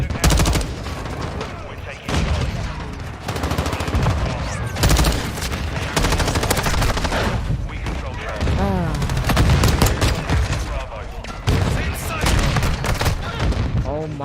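Light machine gun fire in a video game, loud and dense bursts of automatic shots with booming impacts running nearly the whole stretch, briefly dropping out before resuming, with voices mixed underneath.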